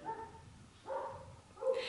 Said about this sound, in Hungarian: hogy ne az legyen a háttérzaj, hogy ő ugat és őrjöng és tombol